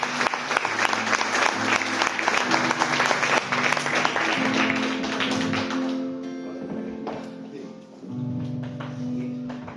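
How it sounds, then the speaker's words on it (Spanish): A church congregation claps for a brother, the dense applause mixed with a low sustained music tone. It eases off after about six seconds as sparse claps linger over the held chords. "Un aplauso a nuestro hermano, por favor."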